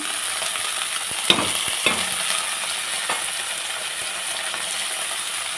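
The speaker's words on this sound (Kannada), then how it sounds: "ಸೇರಿಸ್ಬಿಟ್ಟು ಇದನ್ನು ಕೂಡ ನೀಟಾಗಿ ಫ್ ರೈ ಮಾಡ್ಕೊಳ್ಳಿ" Chopped carrots and beans fry in a pan for upma, producing a steady bright sizzle that stays close and continuous. Two or three metal scrapes and clinks from stirring stand out early on.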